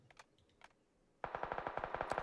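Automatic gunfire in the battle royale game PUBG: a faint distant pop or two, then a loud sustained burst of rapid, evenly spaced shots running to the end.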